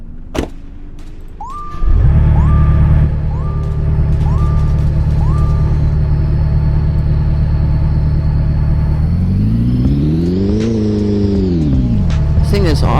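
A car's exhaust rumbles loudly and continuously up close, with a brief rev near the start, a pattern of electronic beeps, and a rising then falling engine pitch toward the end.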